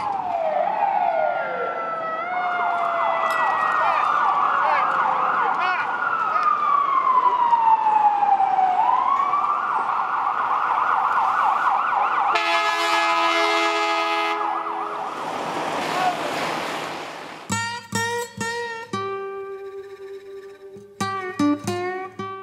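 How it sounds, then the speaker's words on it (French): Emergency sirens from ambulances and police cars wail through New York City traffic, a long rising and falling tone followed by shorter yelps and horn-like blasts, loud and close with no talk over them. "People stopping, people honking, ambulances, police cars."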